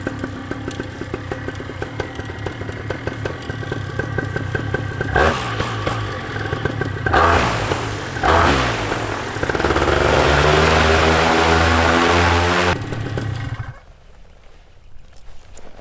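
A Moster 185 Plus paramotor engine, MY25, newly installed, idles with a steady harmonic drone, then revs up in bursts and holds a loud, close full-power roar for several seconds before dropping back to idle.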